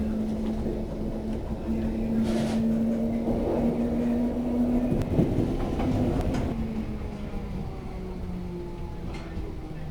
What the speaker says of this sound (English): This is a Bakerloo Line train to Stonebridge Park.